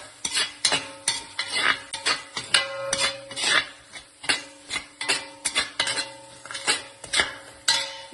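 Spice powders stirred into a pan of fried garlic and ginger, a rapid repeating series of metallic spoon scrapes and clinks against the pan, steady rhythm, close and clear with no talking.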